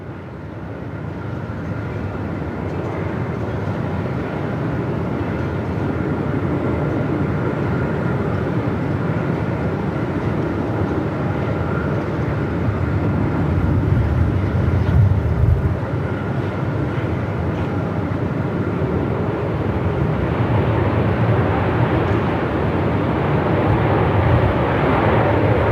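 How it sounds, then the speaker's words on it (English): A Jetstar airliner, flight 451 in from the Gold Coast, arrives at Melbourne Airport in strong wind, a steady broadband jet roar holding loud throughout with gusty rumble and a brief swell near the middle. "this is Jetstar 451 in from the Gold Coast"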